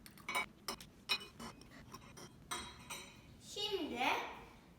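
A spoon clinks repeatedly against a soup bowl during a meal, sharp scattered taps close by, with a voice speaking near the end.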